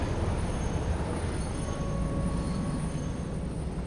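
A train rolls steadily in the factory-building game Satisfactory, a continuous broadband rumble of wheels on rails with faint high squeal tones, no voices.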